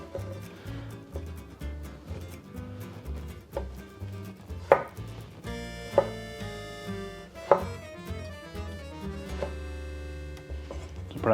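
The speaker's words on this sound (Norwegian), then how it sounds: "Så jeg skjærer sånn, så henger tomater ofte fast." A knife cuts tomatoes on a board with a series of soft, irregular chops and a few sharper knocks against the board, close and clear with no talking.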